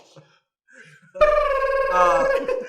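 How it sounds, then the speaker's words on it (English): A telephone rings in a sandwich shop with a loud, sustained electronic tone that starts abruptly after a quiet moment of faint background sound. "That phone's gonna keep ringing."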